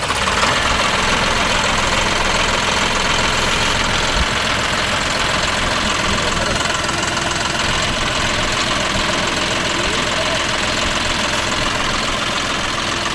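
A John Deere 5405 4WD tractor pulling a five-point cultivator runs loud and close, its engine a constant heavy drone with a knocking edge throughout and no voices.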